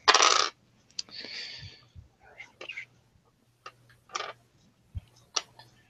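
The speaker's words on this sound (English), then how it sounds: "let's roll me some sexy dice" Dice clatter on a tabletop during a tabletop role-playing game, a loud roll at the start followed by scattered small clicks and taps, with faint murmured voices in between.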